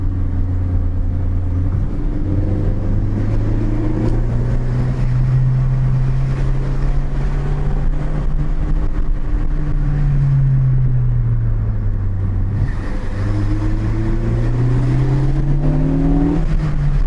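A Ford Focus ST on a winding mountain road, its engine droning steadily while the exhaust gurgles and burbles as revs rise and fall, loud and continuous with no talking.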